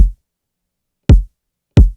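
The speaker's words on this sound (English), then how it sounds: "I added my own kick, which sounds like this." Three deep, punchy kick drum hits with booming low thumps and short decays, separated by silence, the last two closer together.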